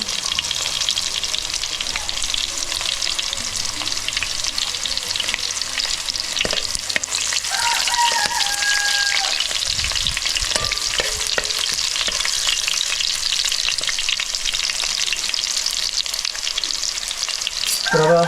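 Garlic fries in a hot pan while being stirred, a dense continuous sizzle close to the mic with scraping stirs and occasional clinks, and no talk.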